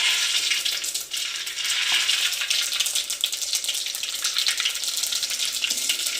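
Spices crackle and sizzle steadily in hot oil for a Gujarati vaghar tempering with cumin and coriander, a loud, close, continuous frying hiss with fine popping spatters and no talking.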